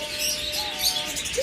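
Pair of turquoise blue (personata blue) lovebirds chirping in a cage, with soft, high tweets and calls running steadily through the background at moderate volume, no talking.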